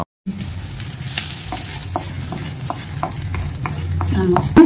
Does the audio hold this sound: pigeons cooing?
no